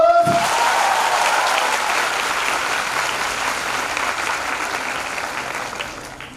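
A big round of audience applause at an International Youth Day event, loud and full from the start and slowly tapering toward the end.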